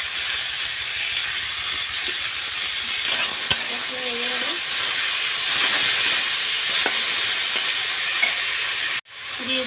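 Onion, green chili and tomato with salt fry in a pan, producing a constant loud sizzle broken by a few sharp clinks of the spatula and a sudden stop near the end.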